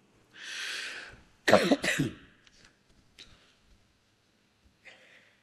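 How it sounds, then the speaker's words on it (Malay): A speaker giving a religious talk lets out a few harsh, close coughs in a short burst, preceded by a breathy exhale and followed by quieter throat noises and a faint sigh. "atas ketidakselesaan batuk saya ni"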